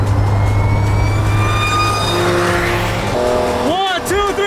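A Dodge Challenger SRT 392 and a modded Audi S4 launch from a dig: a loud engine drone rising in pitch, then swooping revs and tire noise near the end, with voices heard over it.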